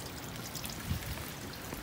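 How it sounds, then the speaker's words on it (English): Rainwater pours from a house downspout onto the ground beside a garage with no drain, a soft, steady splashing wash with a few slightly louder gurgles. "There's no drain, and the culprit is this downspout. And that water's going right into the garage."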